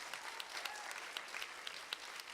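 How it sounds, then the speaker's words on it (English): A church audience at a concert claps in a brief burst of applause, quiet and somewhat distant, with scattered individual claps standing out from the steady patter. "give them a round of applause for coming out here"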